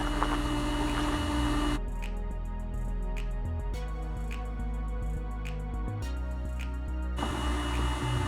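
A pump runs steadily, mixing sugar into syrup for feeding honeybees, a constant mechanical whir with a sharper rhythmic chattering layer pulsing over it for several seconds before easing back to the plain hum.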